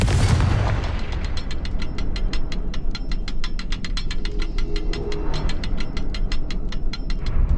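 A Confringo fire spell in Hogwarts Legacy bursts loudly in the first moment, then gives way to a steady, fast run of ratcheting mechanical clicks that continues evenly to the end.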